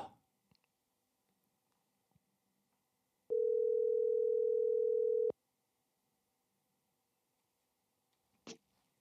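A single steady telephone tone sounds for about two seconds while a call is placed, clear and alone amid near silence, framed by a few faint clicks.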